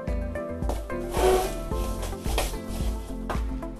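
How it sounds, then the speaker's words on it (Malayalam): Chicken being stirred and mixed with spices, including Kashmiri chili powder, in a bowl, producing close, soft rubbing and scraping strokes in an uneven rhythm, with no talking. "നമുക്ക് നന്നായിട്ടൊന്ന് ഇളക്കി യോജിപ്പിക്കാവേ"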